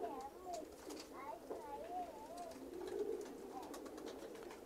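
Pigeons coo softly and repeatedly at close range, several rounded, throaty calls overlapping in a quiet space with faint background noise.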